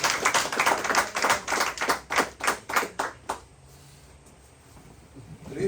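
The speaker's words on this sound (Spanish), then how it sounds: "Denle un aplauso a Cristo." A church congregation claps in unison for Christ, a dozen or so sharp rhythmic claps at a steady tempo that stop abruptly, leaving quiet room tone.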